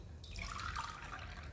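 Water poured steadily from a cup into casting powder for a baby hand and foot mold at home, a soft continuous trickle and splash, quiet and close, with no talking.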